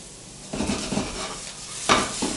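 Fajita vegetables sizzle in a pan, with a few close clinks and scrapes of a utensil against the metal over a soft frying hiss.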